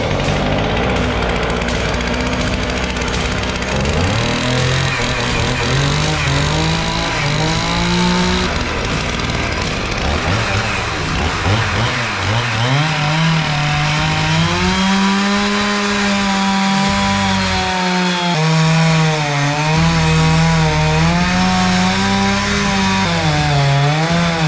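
A chainsaw with a dull chain runs on an Alaskan sawmill, ripping a log into beams. The engine drones loudly and continuously up close, its pitch sagging and rising as it bogs in the cut, with no talking.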